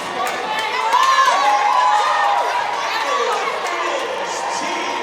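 A stadium crowd of former players and spectators cheers and applauds as the Oxford and Cambridge women's rugby teams walk out for the Varsity Match, with a sustained roar, some higher shouts, and commentary over it.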